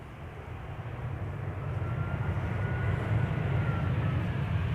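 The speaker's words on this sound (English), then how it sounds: "The Embraer 175 arriving from Düsseldorf is approaching the glide slope from the east, and the Lot Embraer is already on the glide slope." An Embraer 175 airliner arriving from Düsseldorf on approach to Amsterdam Schiphol, heard as a steady, broad engine rumble that swells slightly and holds, with no voices.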